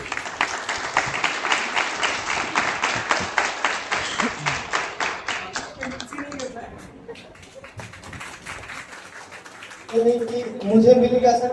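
An audience applauds at an award ceremony for ANM nursing recruitment toppers, with rhythmic, fairly close clapping that fades into a voice speaking over the hall.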